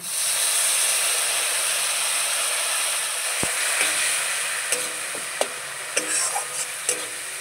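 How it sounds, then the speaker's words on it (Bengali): Ground spices for mutton chaat frying in a hot pan, giving a steady broadband sizzle and hiss throughout, with a few sharp ticks and clinks of stirring in the later seconds. "এই সমস্ত মশলাগুলো আমি ভালো করে কষিয়ে নেব"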